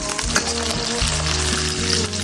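Hot oil sizzles loudly and steadily in a wok with dried chili and Sichuan peppercorns, a continuous close crackling hiss with faint clinks of stirring underneath.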